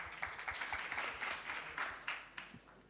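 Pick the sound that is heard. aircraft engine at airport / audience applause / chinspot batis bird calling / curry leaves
audience applause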